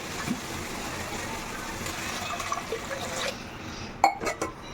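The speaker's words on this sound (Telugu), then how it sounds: "ఇప్పుడైతే వాటర్ యాడ్ చేసుకుంటున్నా" A continuous rush of water pours into a cooking pot with rice for several seconds, ending with a few clanks and splashes.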